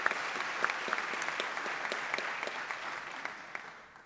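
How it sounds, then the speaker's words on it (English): An audience at a city state-of-the-city address gives a round of applause, a fairly quiet but steady patter of many hands with distinct individual claps that slowly thins toward the end. "Let's give Chris Kimball a round of applause"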